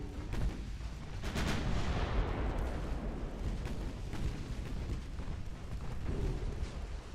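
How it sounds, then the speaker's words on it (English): Torpedoes strike US Navy ships in a naval warfare video game, producing heavy, rumbling booms and crackling blasts that overlap into a continuous barrage, loud and alone with no talk. "We are taking an awful lot of torpedoes"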